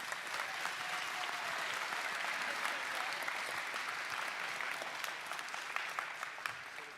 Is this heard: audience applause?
yes